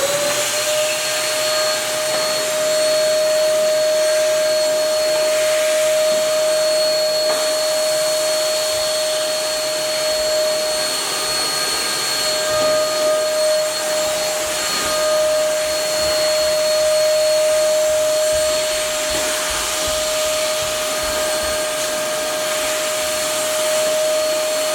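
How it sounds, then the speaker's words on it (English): A vacuum cleaner runs continuously while cleaning window tracks, a loud, steady motor whine with a constant high tone and occasional small changes as the nozzle moves along the track. "So first I'm gonna vacuum up all this extra stuff."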